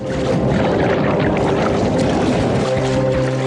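Water splashes and churns up close, loud and steady with a turbulent rush throughout, in an Amazon river setting where piranhas attack a bird.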